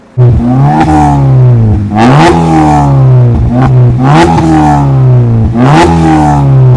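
A car with a full-system sport exhaust from the headers back and a Stage 2 Superchips remap revs hard about four times in a row, each loud, close burst climbing and falling back to idle.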